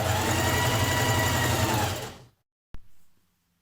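A sewing machine runs a continuous, loud stitching burst while hemming a jersey top, then stops, followed by a brief mechanical clunk.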